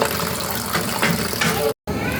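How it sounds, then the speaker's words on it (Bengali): Boiled olives being washed in water, a close continuous splashing and gushing rush that runs steadily, broken by one brief cutout near the end. "এখন আমরা আবার ভালো মতো ধুয়ে নিচ্ছি"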